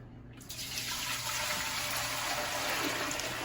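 A steady stream of water pours from a tap into a pot, two quarts for a turkey brine, starting abruptly and continuing as a constant, close splashing rush with no talk.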